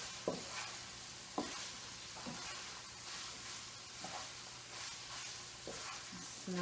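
Garlic sizzles with browning meat in a pan over medium heat, a steady close-up crackle. Sharp clinks from a utensil stirring against the pan break through it every second or so.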